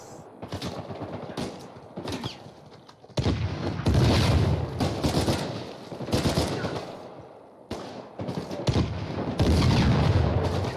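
Gunfire and rocket launcher blasts ring out in a firefight in Uncharted 4, bursts of rapid shots and heavy booms in clusters separated by brief lulls, loud and close.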